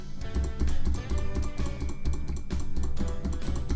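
Repeated rapid clicking on the Discord home button produces a dense, fast run of sharp clicks, close and fairly loud, with no talking.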